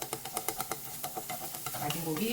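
Minced meat stir-fries in a little cooking oil in a pan, a soft sizzle under a quick run of rhythmic scraping strokes from a utensil that gives way to a steadier hiss.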